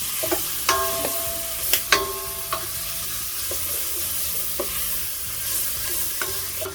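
Onions seasoned with a pinch of salt and pepper are sautéed in a pan. A spatula scrapes and clinks several times at an uneven pace over a low, continuous sizzle.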